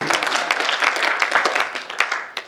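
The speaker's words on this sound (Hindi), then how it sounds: "मुंह से काम नहीं चलेगा, ताली बजानी पड़ेगी।" Audience at a live comedy show claps, a lively, dense stretch of applause with sharp individual claps standing out, sustained at a fairly even loudness throughout.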